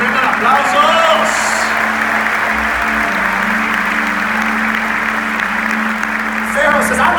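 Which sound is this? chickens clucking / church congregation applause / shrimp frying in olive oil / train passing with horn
church congregation applause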